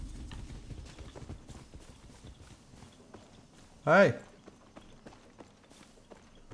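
Hooves of a spotted horse in Far Cry 6 clip-clop in a steady walking rhythm, soft and close beneath faint ambient noise, with a short loud vocal burst near the end.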